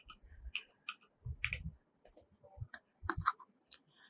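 Quiet computer keyboard typing as a short word goes into a search form, a few irregular close clicks and keystrokes with small pauses between them, no voices.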